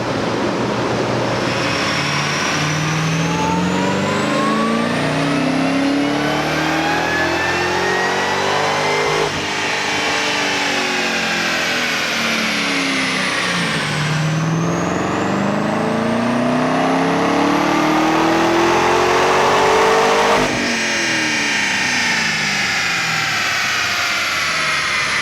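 A Chevrolet Corvette C7 Z06 with an intake and supercharger boost roars on a dyno, repeatedly sweeping up through the revs in long loud pulls, each dropping back before the next climb.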